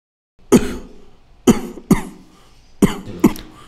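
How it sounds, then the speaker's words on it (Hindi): Five sharp, separate coughs from a man who has been unwell for several days, spaced unevenly over a few seconds, close and fairly loud with no talking. "आप कुछ दिनों से लगातार ही खांस रहे हो।"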